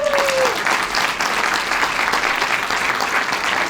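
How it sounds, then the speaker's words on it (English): Audience applause at a press conference in Chicago, a steady wash of clapping from a crowd that holds evenly for several seconds, fairly loud and close, with no speech over it. "let's give her a round of applause."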